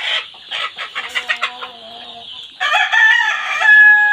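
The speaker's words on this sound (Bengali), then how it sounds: "এগুলা হচ্ছে মিশরীয় ফাউমি, যাকে ডিমের রাজা বলা হয়।" Egyptian Fayoumi laying hens cluck in a rapid, busy run, then a rooster crows loudly and close by, ending in a long, strained call.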